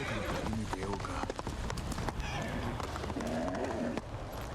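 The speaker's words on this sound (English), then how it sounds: "Is this where my horse decided to be?" Horse hooves clip-clop at a steady trot in the samurai action game Ghost of Tsushima, carried along under continuous background ambience and game sounds at moderate level.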